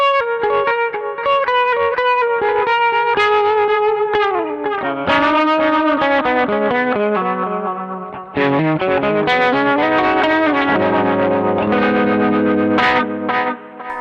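Yamaha Revstar RS502 electric guitar on its P90 bridge pickup, a bright cutting top end through chorus, distortion and echo effects, playing a continuous melodic line of ringing notes and chords, loud and alone.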